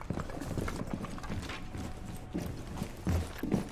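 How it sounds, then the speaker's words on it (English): Footsteps thud and clatter on the Consulate map in Rainbow Six Siege, an uneven run of nearby steps with a few sharper knocks toward the end. "I heard noise. Footsteps."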